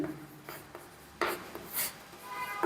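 Chalk or marker scratches across a board in a physics classroom, with short, separated strokes and scrapes of varying loudness heard close by and no talking.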